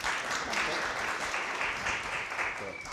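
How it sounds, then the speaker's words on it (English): A crowd at a community barista championship applauds a competitor with sustained, even clapping that fills the room for the whole stretch. "round of applause please."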